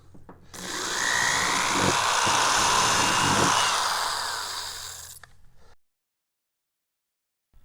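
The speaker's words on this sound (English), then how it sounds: "I'm drilling on one side" A power drill bores through RV-10 aircraft wing parts in one loud, close, sustained whine lasting several seconds, then stops abruptly into silence.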